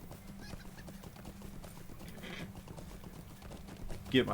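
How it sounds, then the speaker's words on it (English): Hooves of a horse being ridden in the online game Lord of the Rings Online, a steady clip-clop rhythm under a low game ambience, with a brief louder burst near the end. "Hey, get on the horse."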